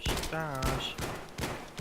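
Rapid gunfire from the video game Battlefield 3 cracks in repeated sharp bursts, loud and close, as a voice briefly speaks over the shooting.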